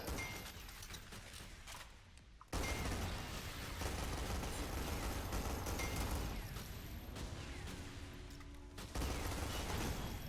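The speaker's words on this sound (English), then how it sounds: "Use the dagger, spam out some bullets." Sustained rapid gunfire from a dagger-wielding character blasting at a boss in the shooter game SYNTHETIK 2, a dense crackling barrage that stops briefly near the start and then resumes and runs on without pause.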